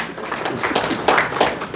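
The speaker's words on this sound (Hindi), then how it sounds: "आपके लिए ताली बजाइए।" An audience at a Hindi-language political gathering claps: a short burst of scattered handclaps, fairly close and moderately loud, uneven and thinning rather than building into full applause.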